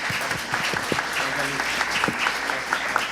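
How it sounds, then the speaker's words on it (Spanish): Seated attendees at a reflection forum applaud two speakers, Andrés and Alejandro, moderately loud continuous clapping with a few individual claps standing out and faint murmuring beneath. "Propongo agradecerles a Andrés y Alejandro con un fuerte aplauso"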